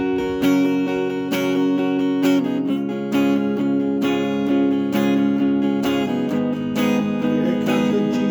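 Guitar strums the chorus chords of a song in a steady four-beat pattern, with firm, repeated strums that change chord every bar or so. It is close, clear and continuous, with no talking.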